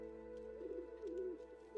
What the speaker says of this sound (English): I go to the park and feed the birds.